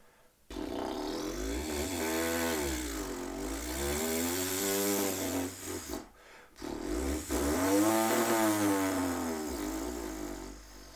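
A human voice performs a lip roll warm-up, buzzing lips trilling in two long sweeps that glide upward and back down in pitch, separated by a brief breath pause, close and fairly loud, sounding almost like a small motor revving.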